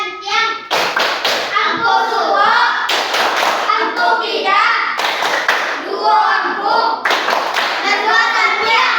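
Children at a school lesson perform a rhythmic clapping chant (tepuk), with bursts of sharp claps in a steady pattern alternating with chanted voices, close and loud.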